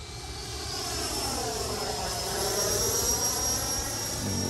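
Freewing Avanti S V2 80mm electric ducted fan RC sport jet flying past with a steady, high-pitched whooshing whine that swells gently as it moves overhead, loud and continuous with no voices.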